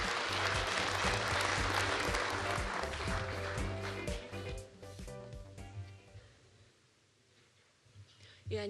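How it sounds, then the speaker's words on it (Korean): A symposium audience at a non-ferrous metals conference in Gangneung applauds to welcome a speaker. The clapping is mixed with music at the start, then thins and fades, with a brief quiet stretch near the end. "여러분 큰 박수로 맞이해 주시면 감사하겠습니다"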